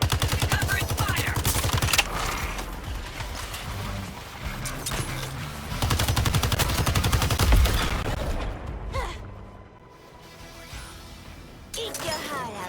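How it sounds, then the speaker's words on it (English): Rapid automatic gunfire in the shooter Suicide Squad: Kill the Justice League, loud sustained bursts with crashes and impacts, easing briefly near the end before firing resumes, with voices talking over the chaos. "Covering fire."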